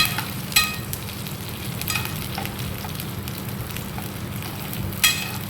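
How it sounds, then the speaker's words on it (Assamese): Garlic, two dried chillies and a little onion fry in hot oil, a steady close sizzle with occasional sharp crackles and stirring clatter. "তাত গৰম তেলত ৰচুন 2-4 ফটা, দুটা শুকান জলকীয়া, পিঁয়াজ অকণমান দি ভালদৰে ৰঙচুৱাকৈ ভাজি ল'ব"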